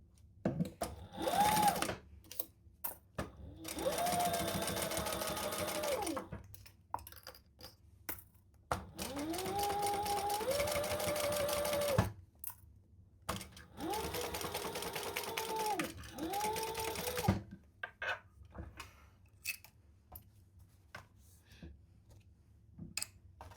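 Home sewing machine stitching the seam of a zip-around travel wallet in several bursts of rapid mechanical whirring that rise and fall in speed, separated by pauses with faint clicks, heard close up.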